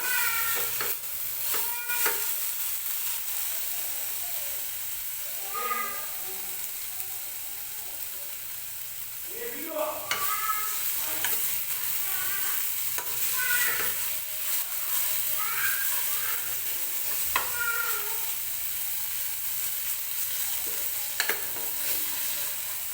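Masala paste roasting in a pan for a chicken gravy, with steady soft sizzling and occasional stirring scrapes throughout, close and moderately quiet, with no talking.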